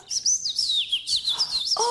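A pet bird chirps and tweets in a quick, lively run of high, bright calls, close by and fairly loud, with no talking over it.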